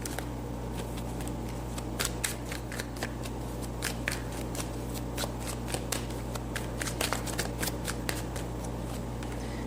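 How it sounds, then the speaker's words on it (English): Tarot cards are shuffled close up, a soft continuous riffle of sliding cards with sharp little snaps and flicks scattered throughout, quiet and without talking. "Let's get more cards out"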